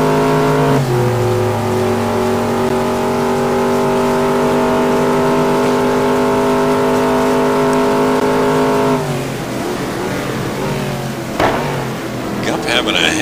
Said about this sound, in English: Gup Douglas driving the Saleen